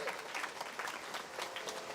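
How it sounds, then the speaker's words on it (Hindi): Crowd at a Shiv Mahapuran katha in Azamgarh breaking into applause, a faint, continuous patter of many hands heard from some distance, with no talk over it. "जोरदार तालियां होनी चाहिए"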